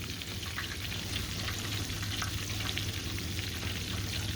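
Catfish and shrimp fry together in a pan with a steady, close crackling sizzle and a faint low hum beneath, without any voices.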